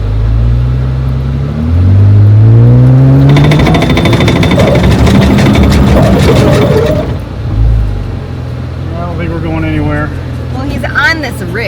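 A Jeep's engine revs loud and close in 4 low while climbing an off-road ridge, rising then holding a rough, rattling roar before dropping back, with people talking near the end.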